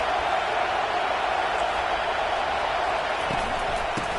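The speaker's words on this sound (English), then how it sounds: "This crowd trying to make life miserable for this offense." A stadium crowd in a college football video game, a dense, continuous roar of distant cheering at steady loudness, with no clear speech over it.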